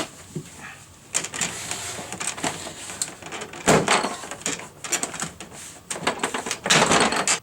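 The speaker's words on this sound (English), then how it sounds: "you're just pulling all those Christmas tree plugs out of the door" Plastic Christmas tree clips popping loose as a door panel is pried off an older Ford Bronco or F-series truck, a run of sharp, loud cracks and snaps in irregular bursts with scraping in between.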